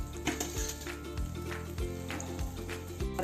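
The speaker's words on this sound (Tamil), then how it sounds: "நான் 3 மூணாக வச்சு பொரிக்கிறேன்." Potato cutlets, three at a time, deep frying in oil, giving a steady close sizzle and crackle with a few light clinks of a utensil and no talk.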